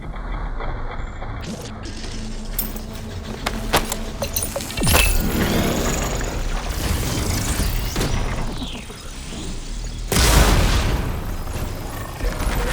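A machine detonates in Horizon Forbidden West: Burning Shores, a heavy booming blast with a loud low-end burst and debris rumble, among other impacts and mechanical clanks over a busy combat soundscape.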